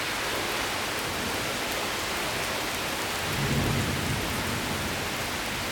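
Heavy rain pours steadily during a severe thunderstorm, a dense hiss of drops on surfaces with a low rumble of thunder swelling briefly midway, loud and continuous with no voices.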